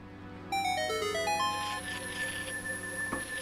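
Randomized Song of Time melody from Ocarina of Time, a short run of quiet synthetic ocarina-like notes stepping through an unfamiliar tune over soft game background music.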